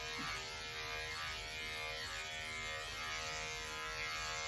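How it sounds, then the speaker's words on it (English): Electric clippers shaving the skirt of a Cocker Spaniel, giving a steady close-up electric buzz with a dense harmonic hum that holds at an even level throughout, with no talking. "with the rest of the skirt, I just shave it"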